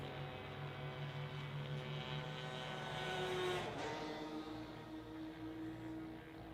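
Race cars run toward the checkered flag at the end of a race, a distant engine drone with steady tonal whine that rises and swells briefly midway, then eases again, all at low level with no talk.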